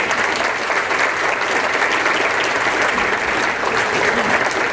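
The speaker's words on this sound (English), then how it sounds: "she deserves a special applause" An audience at a community music concert claps steadily and loudly, a dense even roar of hands that holds for the whole stretch without talk.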